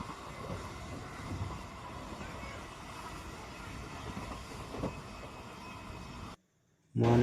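The Pondicherry Express runs at night with a steady, dense rumble and faint rattling of carriages that continues evenly, then cuts off abruptly into silence before a short loud burst returns at the end.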